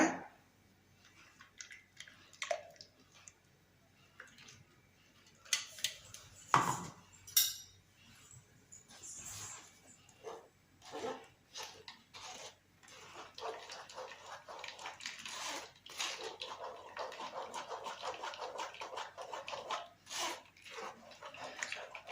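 Aloe vera herbal juice, thinned with a little water, is swished and poured through a strainer. Irregular splashes and trickles come with occasional clinks of a utensil against a vessel, growing busier toward the end.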